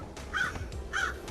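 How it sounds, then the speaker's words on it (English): Crows caw in the video game Paradise Killer, two distinct harsh calls about half a second apart, moderately loud over a low ambient background. "Here's why we're getting so much crow noise."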